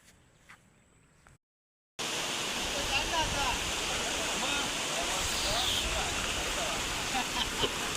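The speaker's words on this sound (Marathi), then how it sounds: "असे छोटे छोटे नाले पार करत आम्ही आता पलीकडे चाललो" Small forest streams rushing in a jungle trek setting on a rainy hillside, a steady broad watery roar close by after a brief quiet start with faint talk.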